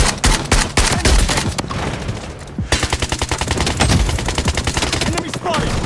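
Rapid automatic gunfire in a shooter video game fires as loud, tightly spaced bursts. After a short pause near the middle, the shots resume as an even, sustained volley of close, sharp reports.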